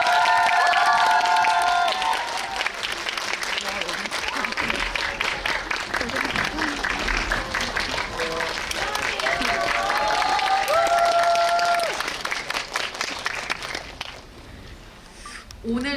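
A cinema audience at a film screening event with a Q&A claps and cheers to welcome the guests. Loud, sustained applause fills the hall, with voices audible through it, and it dies down toward the end.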